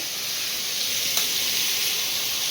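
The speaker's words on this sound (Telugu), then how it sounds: "చూపిస్తాము ఎట్లా ఆయిల్ అనేది ఫ్రై అవుతూ ఉంది" Ridge gourd masala frying in hot oil, a steady and fairly loud sizzling hiss that holds even throughout, with no talk over it.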